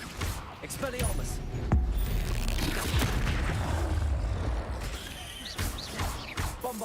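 Spell blast from Expelliarmus in the Hogwarts Legacy video game, a sustained whooshing, rumbling magical burst lasting several seconds, fairly loud with a sharp onset and mechanical creaking crackle throughout.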